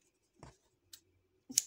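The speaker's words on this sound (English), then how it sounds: "I'm just going to cut them short and then hide them so that they don't show" Scissors snipping yarn ends on a crochet bag, with two or three quiet, close, crisp cuts separated by brief silences.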